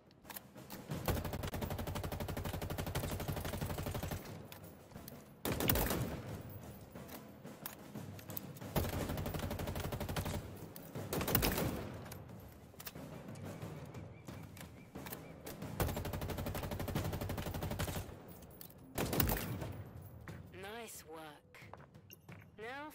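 Weapon fire from the Halo Infinite video game as shots hit practice targets, with long sustained bursts broken by short gaps and a softer stretch at the end, heard without speech.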